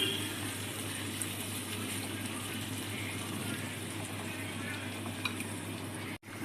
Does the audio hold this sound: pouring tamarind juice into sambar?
yes